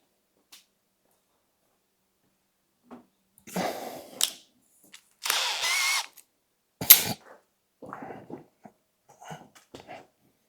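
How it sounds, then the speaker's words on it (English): Short bursts of a power drill whirring, several brief runs separated by silences, with a few faint clicks and rattles in between. "So you're going to take your drill"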